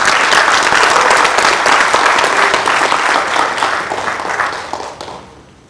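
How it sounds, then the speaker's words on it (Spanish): A conference audience applauds warmly and loudly for a guest speaker, a dense sustained roar of clapping that holds steady and then tapers off toward the end. "Démosle un aplauso cariñoso a Pedro Reyes."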